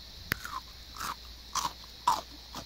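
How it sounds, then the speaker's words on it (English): Homemade extra-crunchy fried onion rings are bitten and chewed up close, with four or five sharp crisp crunches spaced irregularly over a quiet background and no talking. "I'm up here eating onion rings."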